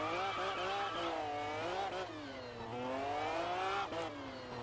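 A Pagani Zonda in the racing game Test Drive Unlimited drives with a loud, rising and falling engine whine as it revs through gears, sustained throughout with brief dips between shifts.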